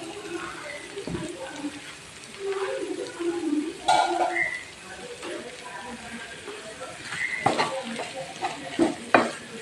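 Liver fries in a pan with a low sizzle beneath scattered spoon scrapes and clatters. Someone talks quietly at times, and a bird coos in the background.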